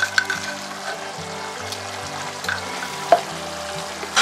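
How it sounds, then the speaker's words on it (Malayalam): Asafoetida powder added to hot oil while making ginger-mango pickle, a steady soft sizzle with light stirring scrapes and a few small clinks, close and without talk. "കുറച്ച് കായപ്പൊടിയും കൂടെ നമുക്ക് ഇതിനകത്തേക്ക് ചേർത്ത് കൊടുക്കാം"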